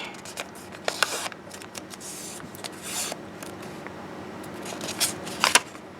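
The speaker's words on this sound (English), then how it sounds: "Unfold and fold the unit in half diagonally." An origami paper unit being unfolded and folded in half diagonally, with close, crisp paper rustles and a few sharp crinkling bursts, no voices.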